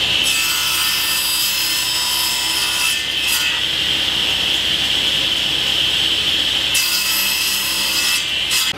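A saw cuts wooden stock into 160 mm sections for a wooden bar clamp, its strokes rasping loudly and continuously up close.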